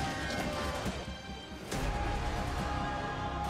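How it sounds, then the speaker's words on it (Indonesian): Glass shatters in a sudden crash within a movie trailer for Indigo, breaking through a dense, rumbling, loud soundtrack. "kaca pecah coy akhirnya"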